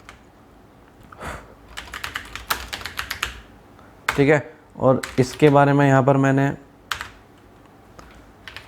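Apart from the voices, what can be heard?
typing on a computer keyboard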